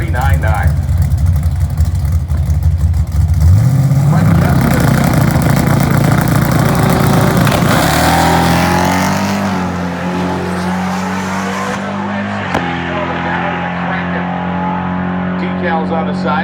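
A drag race car at Dragweek 2022 in Cordova roars loudly, its engine pitch sweeping upward before settling into a rough, lower idle, with a commentator talking over it throughout.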